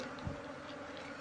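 Wild bees buzz in a steady, low hum around a nest that is being removed. The sound is faint and continuous, with no voices over it.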